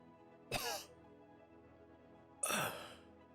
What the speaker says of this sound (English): you guys all hear a raspy, choked cough